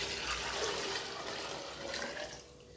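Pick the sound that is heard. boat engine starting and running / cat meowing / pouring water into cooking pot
pouring water into cooking pot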